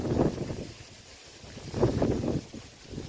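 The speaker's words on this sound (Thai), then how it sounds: "โอ้ลมแรงนะครับ" Strong wind buffets an outdoor microphone in a banana garden, producing low rumbling gusts that surge, drop away briefly, then swell again, with no talking.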